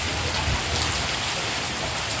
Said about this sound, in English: So today we will not go swimming, guys, because it's raining.